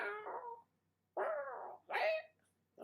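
A cat meows three times, drawn-out and fairly faint, with short quiet pauses between the calls.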